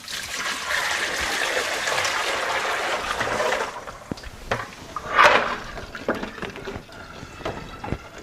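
Soaking water from sunflower seeds for microgreens is poured out of a container, a steady close trickle for several seconds that stops, leaving scattered small drips and taps.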